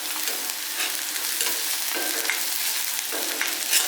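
Onion, ginger and green chili sautéing in oil for a dhaba-style tomato curry, a steady close sizzle with occasional stirring scrapes throughout, no voices.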